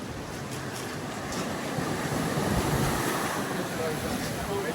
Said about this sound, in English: The sea is super rough down here.